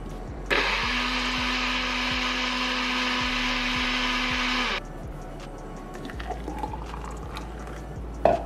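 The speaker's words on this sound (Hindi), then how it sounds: "Let's blend this." Countertop blender whirring loudly for about four seconds as it blends lemon juice, oats and water into a smoothie, then cutting off to quieter clinks and handling noises.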